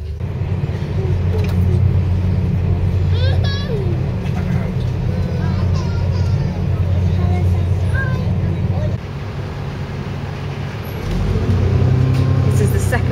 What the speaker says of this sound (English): So this is the second bus ride we're on